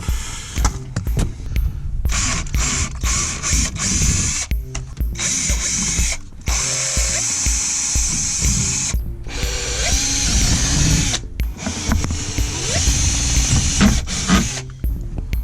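A power drill bores holes for a Maxton Design bodykit on a Toyota GT86, its motor whining in long sustained runs broken by short pauses and ratchety clicks, close and loud with no speech.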